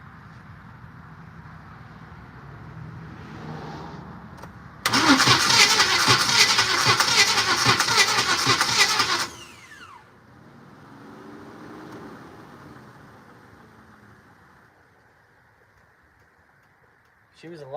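A Buick Regal engine cranks for a compression test, a loud rhythmic churning burst of about four seconds after quieter moments, then it cuts off and low talking follows.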